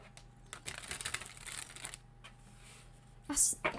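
Tarot cards being shuffled by hand, several soft riffling and sliding bursts close by and faint, with a brief sharper flick near the end.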